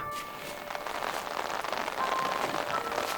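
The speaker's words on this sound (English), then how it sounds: "now the rain is coming, so I think we have to just chill in the tent for now." Rain falling on a tent during a camping painting trip, a steady broadband patter that grows slightly heavier toward the end, close and continuous with no talk.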